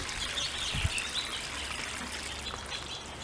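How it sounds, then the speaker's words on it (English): Water trickles and splashes gently at the base of a tomato plant in a garden, a soft continuous pour close by, with faint birdsong in the background. "you're always going to water your plants at the base, not over top"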